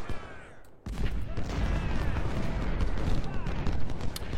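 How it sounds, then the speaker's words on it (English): Units in a strategy video game battle trade dense, continuous gunfire that erupts loudly after a brief quieter opening and rolls on as a thick wash of shots and booms. "So we've got 3 units firing on these guys"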